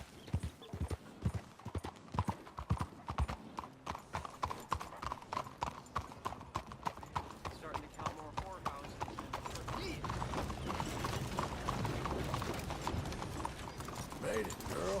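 Horse hooves clip-clop in a steady rhythm in Red Dead Redemption 2, loud and close for the first seconds, then blending into a denser layer of in-game ambience and movement.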